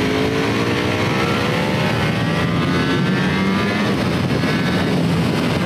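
A 2020 Ducati Panigale V4 S motorcycle engine revs hard on track, loud and close, with rising and falling pitch sweeps through the gears and no talk.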